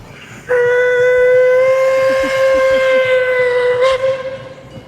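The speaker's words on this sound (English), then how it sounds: "that is called Puffing Billy, which is a local heritage steam engine" The Puffing Billy heritage steam train sounds a loud, sustained steam whistle for about three seconds, with low chuffing and rail rumble beneath, close by.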